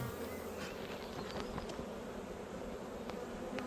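Forager honey bees buzz around a wild-swarm hive during an inspection, a steady, dense hum from many insects close by, with occasional brief louder passes of individual bees and no talking.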